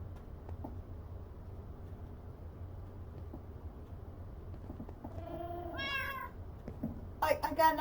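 A cat meows in Minecraft, a couple of short mews near the end over a low steady background hum, faint at first and louder at the close.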